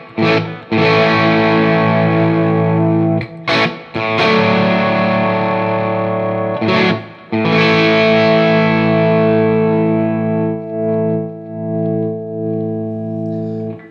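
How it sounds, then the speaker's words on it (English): An electric guitar plays a distorted blues riff through a Laney Lionheart L20H amp, loud, sustained chords ringing out in three phrases with brief gaps, the last one fading. "we're going to play the same riff all the way through, a little bit of a blues run"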